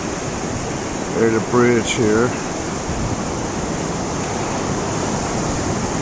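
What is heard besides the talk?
loud ocean waves on the Oregon coast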